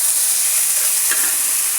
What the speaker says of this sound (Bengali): দেখুন, আমরা এখন ভাজিটা দিয়ে দিচ্ছি তেলের ভিতরে।